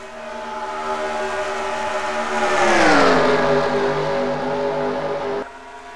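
Race cars on an oval track rush past in a loud, sustained engine roar that rises to a peak and falls in pitch as the pack goes by, then cuts off sharply.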